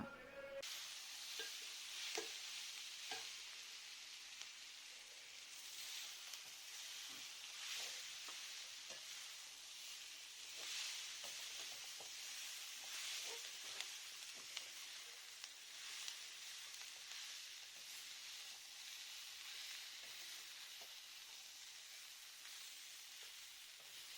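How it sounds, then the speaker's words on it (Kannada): Onions and fried cluster beans sauté in a pan with a faint, even sizzle throughout, and soft scraping and tapping of stirring now and then. "ಹುರಿದಿಟ್ಟುಕೊಂಡ ಗೋರಿಕಾಯನ್ನು ಸೇರಿಸಿಕೊಂಡು ಬಾಡಿಸ್ಕೊಳ್ಳೋಣ"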